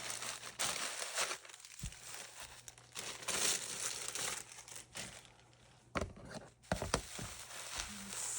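Package of art supplies being unwrapped, close crinkling and rustling of plastic or paper wrapping in irregular bursts with brief tearing sounds and short quiet gaps.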